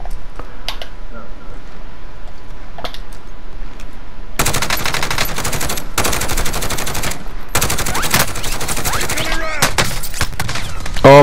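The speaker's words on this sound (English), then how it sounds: "Oh my god, where am I getting shot from?" Rapid automatic gunfire erupts in the Warzone video game, with long loud bursts of close shots after a quieter stretch of faint distant pops and clicks, broken by brief pauses.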